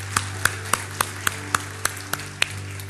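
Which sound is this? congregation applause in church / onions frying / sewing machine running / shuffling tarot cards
congregation applause in church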